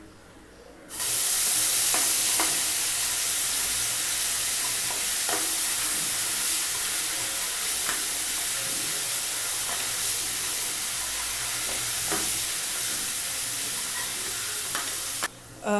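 Ginger garlic paste fries in hot oil for a Tamil-style chicken gravy, giving a loud, steady sizzle that starts abruptly and holds for about fifteen seconds, with faint stirring scrapes at intervals.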